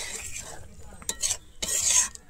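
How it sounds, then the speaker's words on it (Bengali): A spoon stirs fresh cream into egg korma in a pot. The scraping and swishing strokes come in irregular bursts, close by, and the strokes near the end are louder. "আমি ফ্রেশ ক্রিমটা দিয়ে খুব ভালোভাবে আবারও মিশিয়ে নেব।"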